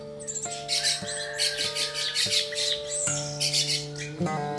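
An orange-headed thrush sings nearby in a varied run of bright whistled and chattering phrases, with a few steady low hums running underneath the whole time.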